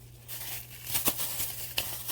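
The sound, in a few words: plastic bag crinkling while packing an order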